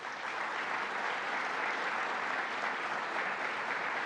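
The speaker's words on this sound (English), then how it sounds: "Now let's give a round of applause to our Secretary of State, Robert Rodriguez." Audience at a New York state government briefing in Syracuse applauding in a steady, even wash of clapping that lasts throughout, moderately distant and without speech.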